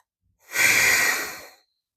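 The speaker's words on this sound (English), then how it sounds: "And take a breath." A single slow, audible breath taken during a yoga flow while holding warrior two: a smooth, airy exhale-like rush lasting just over a second, close and clear, with no talking.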